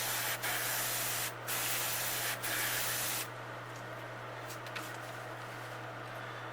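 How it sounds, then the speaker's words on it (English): Short hissing bursts of spray paint applied at an angle to a bluegill fishing lure to make stripes, a few quick passes in a row, over a steady low electrical hum, then quieter faint hiss. "Spray a little bit on an angle."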